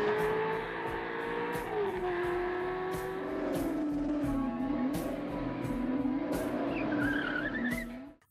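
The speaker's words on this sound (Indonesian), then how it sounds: "Bahkan di malam itu Jules menguji kemampuan dari mesin mobil ini" A car engine revs hard at night as the tires squeal and skid in long wavering screeches, loud and close for about eight seconds before cutting off abruptly, with no voices.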